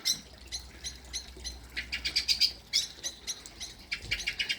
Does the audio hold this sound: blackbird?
yes